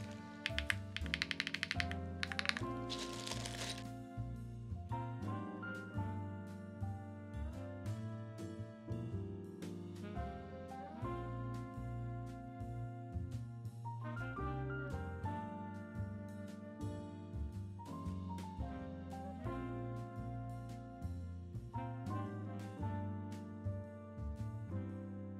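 Keys clatter steadily on a Trio 65 mechanical keyboard with Bigwig switches, a quick stream of tactile clicks and thocks with no voices.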